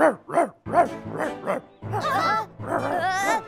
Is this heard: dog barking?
yes